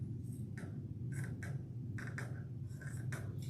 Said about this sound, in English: So I'm going to just cut mine to fit here.